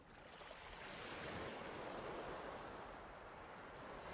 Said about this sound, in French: J'aime regarder le cliquetis des coquillages au retrait des vagues.